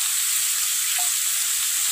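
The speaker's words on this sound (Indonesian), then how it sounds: "kita tambahkan saja air" A pan of yellow spice paste keeps up a steady, even sizzle as water is poured in, a continuous frying hiss with no voices.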